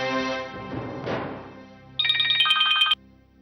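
A phone rings over speaker during a call, a bright electronic ringtone sounding steadily for about a second after quieter background sounds and music.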